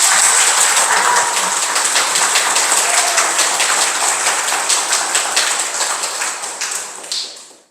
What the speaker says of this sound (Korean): 박수 한번 주시게요.